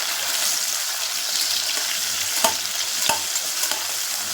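Onions, green chili and ginger garlic paste sizzle steadily in a pan for jackfruit biryani, a close, continuous frying hiss with a couple of sharp spatula scrapes.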